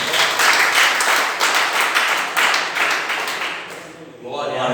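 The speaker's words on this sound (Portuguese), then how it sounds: "Uma salva de palmas para o Senhor." A church congregation applauds, the clapping coming in rolling waves that fade briefly near the end before picking up again, with voices mixed in.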